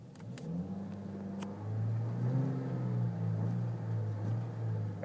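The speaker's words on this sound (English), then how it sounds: "when you tap onto the accelerator, like midway like this, you hear like this rather raspy sound to it" A 2011 Chevrolet Cruze Eco with a six-speed manual, its engine revving to mid throttle with a raspy, slightly buzzy drone that rises and holds, steady and close, with no talk.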